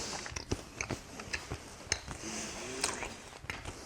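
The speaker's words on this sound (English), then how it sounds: "It's quite a firm piece of chewing gum." A firm piece of peppermint chewing gum from a Chinese PLA combat ration is chewed up close, with irregular wet bites and smacks and a brief voiced murmur partway through.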